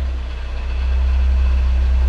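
Nissan S15 engine running on a dyno, a loud steady low-pitched drone with a throbbing pulse that rises slightly midway and holds, heard close and without talking.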